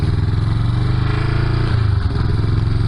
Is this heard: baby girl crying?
no